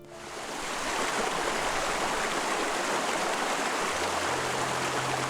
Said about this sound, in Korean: 지금 들려오는 물소리, 이 순간의 바람